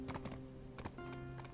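Horse hooves clip-clop in the Black Desert video game, a steady run of paired hoofbeats close up against a faint steady background tone, with no talking.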